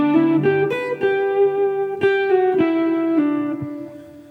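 Electric guitar plays a bluesy phrase from a solo: a handful of sustained, ringing single notes with bends and pull-offs, clear and up close, unaccompanied and without talk.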